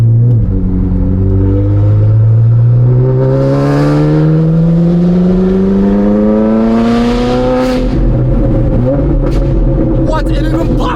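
A Ferrari 458 Spider fitted with F1 race exhaust headers revs loud and close, its engine note climbing steadily, then breaking into rougher crackling bursts near the end.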